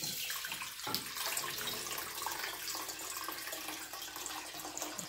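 Water poured from a measuring cup into a 12-cup fluted Bundt pan, a steady splashing stream that runs for several seconds, moderately close, with no talk.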